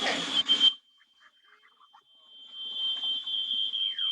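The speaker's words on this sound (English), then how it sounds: "I love that your smoke alarm is going off." A smoke alarm beeps in a home kitchen while lamb kofte and couscous are cooked, a steady high electronic tone running faintly through most of the clip after a burst of loud kitchen noise, with quiet clatter beneath.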